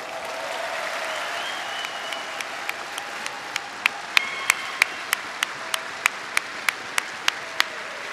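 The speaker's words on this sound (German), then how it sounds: "grossen Applaus" An audience at a Swiss SVP political rally claps in a steady rhythmic beat, distinct claps spaced evenly and building over several seconds over a low crowd murmur.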